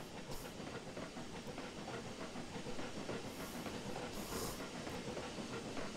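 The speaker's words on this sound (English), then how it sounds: "It's very entertaining watching this locomotive do its thing" A locomotive in the Trainz 2022 railway simulator runs through the Mantiqueira Mountains, giving a steady rumbling, hissing drone with faint rhythmic rail clatter and occasional brief high hisses, continuous and moderately quiet, with no talking.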